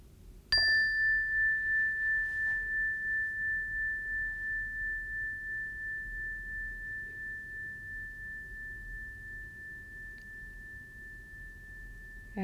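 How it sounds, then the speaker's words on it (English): A single meditation bell strikes once, clear and bright, then rings on with a long, slowly fading sustained tone over quiet room hiss until the end. "Listen for the sound of the bell that will open and close our time."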